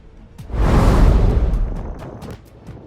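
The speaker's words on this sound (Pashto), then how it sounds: "اسرائیل په غزه کې د نوي هوایي او توپچي بریدونه ترسره کړل" A deep, rumbling blast swells and rolls for a couple of seconds, like a distant explosion or artillery fire, then fades into a low murmur.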